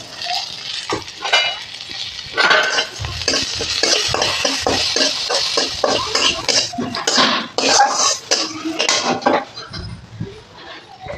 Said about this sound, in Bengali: আগে যে ভিজিয়ে রেখেছিলাম গোবিন্দভোগ চাল, ওইগুলোকে আমি সামান্য একটু পরিমাণে ঘি দিয়ে একটু ভেজে নেব।